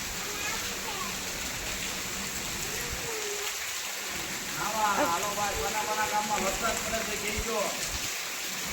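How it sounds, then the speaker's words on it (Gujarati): Steady rain falls in a constant hiss, with voices speaking over it in the middle and toward the end. "અહીંયા લગભગ બે કલાકથી વરસાદ આવે છે"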